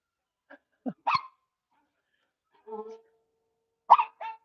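A dog indoors gives a few brief, close vocal calls: short yips and whines with one slightly longer howl-like tone, separated by silence.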